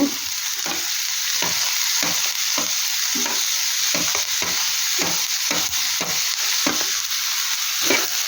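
Finely chopped tomatoes sizzle in a hot pan while a utensil scrapes and stirs in a regular rhythm, a close, constant frying hiss with no talking.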